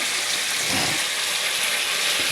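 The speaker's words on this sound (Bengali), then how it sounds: "এখন এতে দিয়ে দিব জল" Water poured into a pan of spice paste that has been fried until the oil separates, for a fish curry with ridge gourd and potato, gives a steady, close, loud rushing hiss with no pause.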